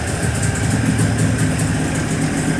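A Jawa 638 motorcycle engine, its valves freshly adjusted, idles steadily and close up with an even, continuous rumble and no talk.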